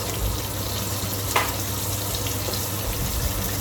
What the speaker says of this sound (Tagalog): Gigisa ko na yan.